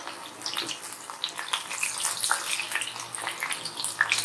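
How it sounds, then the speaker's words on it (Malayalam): Soya chunks frying in very hot oil, dropped in one at a time for a crispy soya fry, give a steady loud hiss and crackle with fine popping throughout, close by and with no talking. "നല്ല ചൂടുള്ള എണ്ണയിൽ വേണം ഇത് ഫ്രൈ ചെയ്തെടുക്കാൻ."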